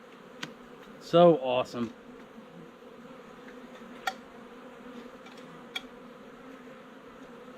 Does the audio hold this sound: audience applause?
no